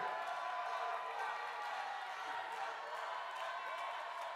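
A crowd at the Miss Universe 2011 preliminary competition cheers and claps in a steady, dense roar that fills the hall at a constant level.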